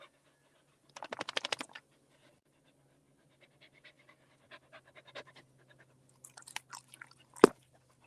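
Dogs pant in a quick rapid burst up close, followed by scattered faint clicks, licks and shuffling movements in a quiet room, ending with a sharp knock.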